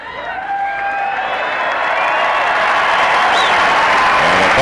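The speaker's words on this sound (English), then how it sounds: "And a Buckeye salute from the hometown crowd" A hometown crowd at the 1995 Arnold Classic bodybuilding contest cheers and applauds Mike Francois, a sustained roar with whistles and whoops that swells steadily louder.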